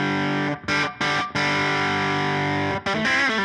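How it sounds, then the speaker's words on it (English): Electric guitar overdriven through a Deluxe 55 pedal rings out in sustained distorted chords, held notes with a couple of brief breaks between strums, dry and close with no talking. "That is the Deluxe 55."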